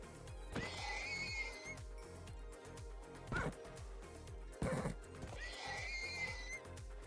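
Horse in the Minecraft modpack Omnifactory gives two loud, shrill whinnies, one near the start and one near the end, over a steady rhythmic clip-clop of hooves with sharp clicks in between.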